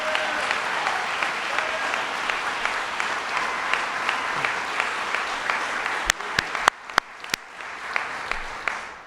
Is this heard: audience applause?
yes